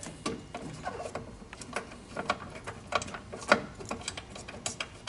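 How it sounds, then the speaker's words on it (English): Small metal clicks and ratcheting taps from loosening screws inside an older Ricoh Ri1000 printer, close and fairly quiet, coming in short irregular bursts with no talking. "we're gonna go ahead and we're gonna loosen up those screws inside there"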